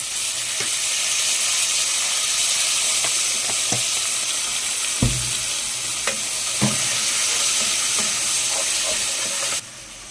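Fried garlic sizzling and frying steadily in a pan as vinegar is added while cooking Egyptian koshari, a continuous close hiss with occasional clicks of a spoon, ending abruptly.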